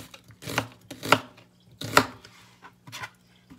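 A knife cuts through an onion on a board in a home kitchen, with about five crisp, distinct chops spaced irregularly, close and clear, with quiet gaps between strokes.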